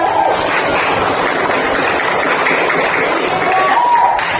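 A class of fifth-grade children in an Indonesian primary school claps and cheers together, a steady, loud burst of mixed clapping and voices lasting throughout with no pause.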